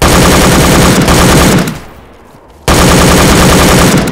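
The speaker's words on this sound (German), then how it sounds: "Und da kommen die Schüsse wieder." Loud, close automatic gunfire from the video game DayZ rattles in dense rapid bursts, stops briefly, then resumes with another sustained burst.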